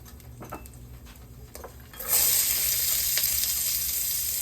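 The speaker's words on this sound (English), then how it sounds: "Love that sizzle." Onions drop into a very hot oiled pan and burst into a loud, steady sizzle after a couple of seconds of quiet clinks and taps, the frying hiss holding strong to the end.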